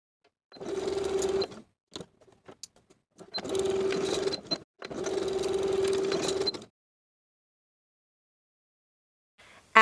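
Sewing machine running a narrow zigzag stitch across swimsuit band ends, heard in three separate bursts of whirring with short pauses between, then silence.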